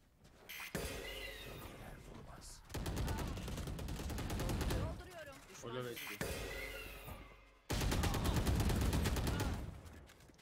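Valorant gunfire comes in several dense bursts of rapid shots separated by brief gaps, loud and close, with game voice lines and a player talking between them.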